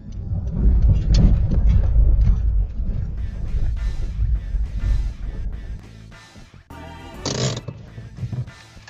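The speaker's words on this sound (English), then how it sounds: "We've got a lot of road noise, obviously, with all the missing and bent body panels." Inside a crash-damaged Honda CR-Z hybrid with missing and bent body panels, loud low road rumble and wind roar fill the cabin, easing slightly toward the end, with some talking.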